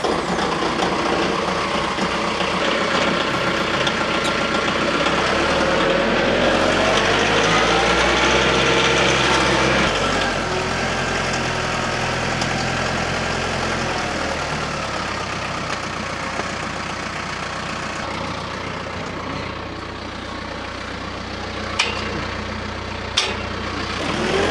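A tractor engine idles steadily and fairly close during a bucket-to-forks attachment swap, its low rumble fading slightly partway through, with a couple of sharp metallic knocks near the end.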